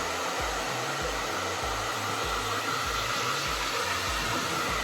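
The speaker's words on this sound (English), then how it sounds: "nobody got time to blow dry their hair for like 30 minutes" A hair dryer with a diffuser blows steadily on curly hair, a continuous close whooshing airflow with a low rhythmic pulsing underneath as the hair is scrunched and dried.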